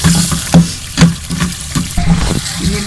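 Water poured into a pan of frying onion and chili masala for Kashmiri chicken, loud steady sizzling and bubbling with repeated stirring scrapes, close up and without talk.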